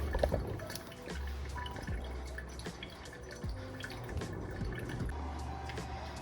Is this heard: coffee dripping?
yes